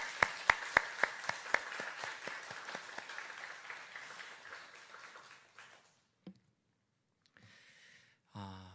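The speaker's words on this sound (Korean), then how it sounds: "다시 한번 환영의 박수 올려드리겠습니다" A church congregation gives welcoming applause for their pastor and missionaries, opening with a few sharp, evenly spaced claps that swell into a dense wash of hands, then fade into near silence broken by brief scattered sounds.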